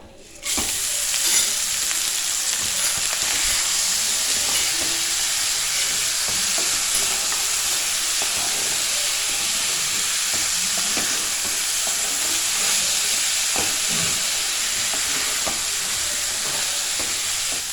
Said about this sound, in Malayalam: അരിയൊന്നും പൊട്ടിപ്പോകാത്ത വിധം പതുക്കെ ഇളക്കി കൊടുക്കുക